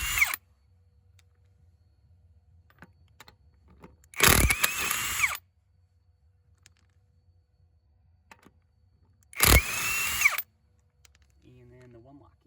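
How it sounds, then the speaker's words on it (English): A power tool spins off 19mm lug nuts on a car with rear drum brakes. Three short, loud, whirring bursts about a second long are separated by near silence and faint background noise. "just got 3 19mm lug nuts here I'm going to take off"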